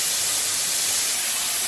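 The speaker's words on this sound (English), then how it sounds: "just let that steam come out" Steam hisses steadily out of a pressure cooker nozzle during cooking of a base gravy for curries, a loud, continuous, broad rushing sound with no pauses.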